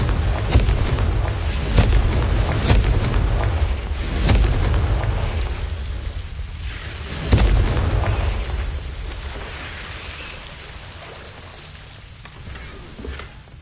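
A Confringo fire spell bursts in the video game Hogwarts Legacy, giving a loud, close explosive boom with crackling rumble. A second blast follows around the middle, and then the roar fades into a softer crackle.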